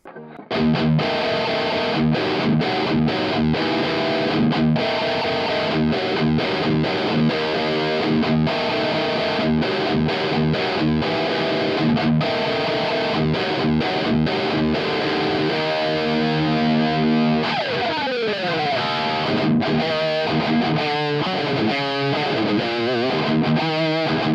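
Electric guitar played through a Boss Katana MkII amp, heavily distorted riffing with palm-muted chugs and sustained chords, loud and continuous with no talking.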